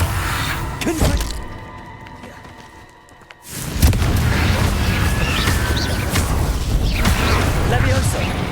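A Confringo fire spell explodes in a Harry Potter video game with a deep, loud boom around the four-second mark. Rumbling blast noise follows, with more bursts and thuds before and after and a short near-silent gap ahead of the blast.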